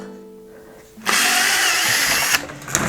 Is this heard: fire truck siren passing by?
no